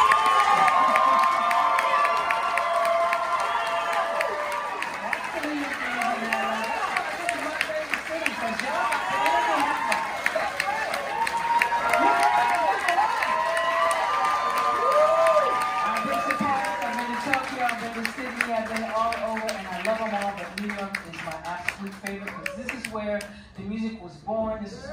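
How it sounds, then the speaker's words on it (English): A New York jazz club audience gives loud, sustained applause and cheering for the band, with whoops and shouts over dense clapping, filling the room for the full stretch before tapering at the end. "So I want you guys to give each one of these gentlemen your best, very best New York applause."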